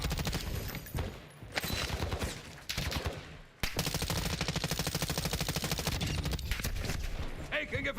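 Rapid automatic gunfire from a Black Ops 6 multiplayer match, loud sustained bursts with a brief pause, firing continuing under near-constant battle noise.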